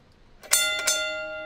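A bell effect during a studio radio show: two bright, ringing strikes about a third of a second apart, the second lighter, with a long sustained metallic ring trailing off afterward.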